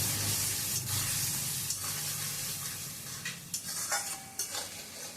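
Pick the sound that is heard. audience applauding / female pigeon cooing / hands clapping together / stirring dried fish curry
stirring dried fish curry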